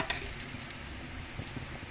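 Crushed chili hitting hot oil with garlic and shallots in a pan, a soft continuous sizzle with a brief bright clink near the start, fairly quiet and without speech.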